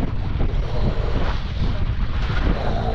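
Strong wind buffets the microphone with loud, rumbling gusts that roar steadily throughout.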